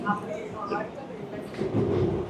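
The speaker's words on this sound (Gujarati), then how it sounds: "ન્યુયોર્કની સબવે ટ્રેન આ આપણે બોમ્બેની લોકલ ટ્રેન ચાલતી હોય ને એવી રીતે ચાલે છે એવો અવાજ આવે છે" A New York subway train rumbles along with a steady clattering roar, close by, while people talk over the noise.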